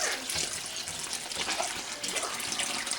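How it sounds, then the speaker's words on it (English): Water pours steadily into a crock pot in a homemade herbal salve setup, a continuous soft splashing gush of moderate, even loudness with no talk. "And then you're just going to pour water in there."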